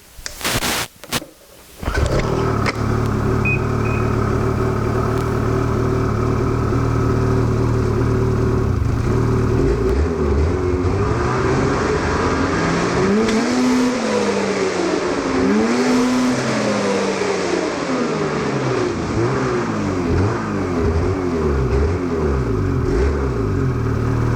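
Two-stroke E-TEC snowmobile engine fitted with Boyesen parts, cranked with a few quick bursts before catching, then idling loudly and steadily nearby with wavering revs rising and falling for about twenty seconds.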